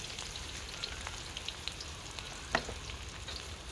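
Shallots frying in reused oil for a Thai chili paste with pork belly, a soft steady sizzle with scattered crackles and one sharper pop, close and fairly quiet.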